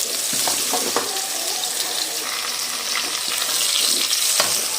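Garlic, ginger and two green chilies frying in a pan, giving a steady loud sizzle with occasional stirring scrapes, close and without speech.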